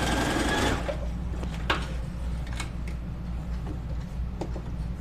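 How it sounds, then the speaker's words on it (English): A sewing machine runs steadily up close on a dressmaking project, a continuous mechanical whir with faint ticking and a few small clicks, and no voices. "All right, I'm just gonna sew a little bit."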